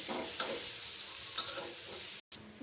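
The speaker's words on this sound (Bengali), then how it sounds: "দিয়ে দিব একটা পেঁয়াজ দারচিনি দেওয়া আছে দিয়ে ভালোভাবে পেঁয়াজটাকে ব্রাউন কালার করে নেব" Onion frying with cinnamon for a Bengali chicken and potato curry, a soft continuous sizzle with two light spoon taps, close and fairly quiet, cut by a brief dropout near the end, with no talking.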